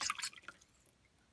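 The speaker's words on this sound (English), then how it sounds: "it stops, and it'll stop dripping after a fashion there." Water from a ball float valve in a toilet cistern gives a few quick wet drips and splashes at the start, then fades to near silence, close and faint.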